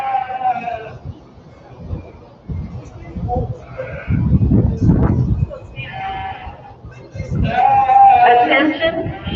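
Sheep bleating at a livestock sheep show ring, several loud wavering bleats scattered through the clip over crowd murmur and an announcer talking.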